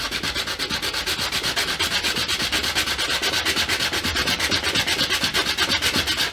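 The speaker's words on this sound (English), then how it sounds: "Just hold the sandpaper around it, like so." Wood sanded by hand with 60 grit sandpaper wrapped around a block, a close, loud, rhythmic rasping of quick back-and-forth strokes at a steady pace, with no talking.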